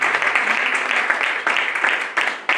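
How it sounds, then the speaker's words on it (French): A church congregation applauds and cheers in praise during a French-language sermon. The sound is a steady, dense wash of clapping and voices with a few stronger swells, and it fills the whole moment. "Est-ce que tu peux acclamer la parole de Dieu?"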